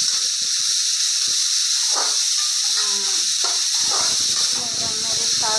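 Finely chopped onion with green chili sizzles in a hot pan, a constant bright hiss running throughout while a person talks over it.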